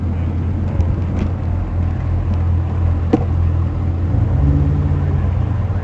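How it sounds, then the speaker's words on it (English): A car engine rumbles steadily nearby at a Cars & Coffee meet in Yulee, with low mid-range engine tone swelling slightly toward the end as the vehicle pulls away. "Oh, we got one rolling out."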